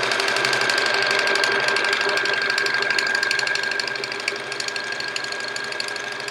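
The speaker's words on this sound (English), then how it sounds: "I like the sound of the sewing machine too." Continuous mechanical hum and rapid ticking of a sewing machine stitching at a steady pace, close and fairly loud with no voices.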